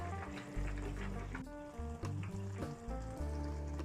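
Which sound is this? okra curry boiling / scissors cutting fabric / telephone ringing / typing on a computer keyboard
okra curry boiling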